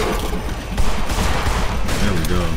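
Dense gunfire in the horror shooter In Sound Mind: loud rapid bursts and sustained volleys that fill the whole stretch, with no pause between shots.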